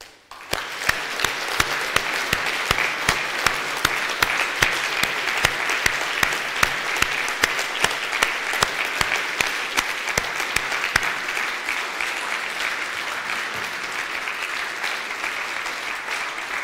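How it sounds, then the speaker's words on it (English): An audience at a keynote prize tribute applauds in steady, dense clapping that fills the room, with sharper individual claps standing out and the applause thinning slightly toward the end. "maybe we could applaud Laurie as if she had been here to receive that Dahl-Nygaard"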